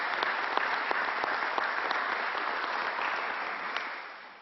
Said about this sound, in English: Let's give them a big round of applause and thank them